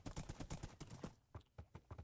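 Horse hooves clip-clop in Minecraft, a quick, steady run of light hoofbeats that pauses briefly and then resumes, quiet and alone.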